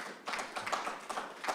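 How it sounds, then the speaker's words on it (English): Audience applause at a community conversation event, a short burst of clapping from a group heard fairly faint and steady throughout. "Can we give them a round of applause for the great job they did?"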